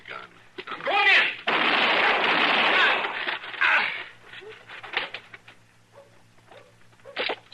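Radio drama shootout in which a burst of loud, close gunfire and bangs fills the opening seconds, followed by scattered smaller impacts and a final sharp crack.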